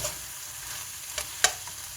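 Spicy pork and eggplant are stir-fried in a pan. A steady close sizzle runs throughout, broken by a few sharp scrapes and clicks from the utensil stirring the food.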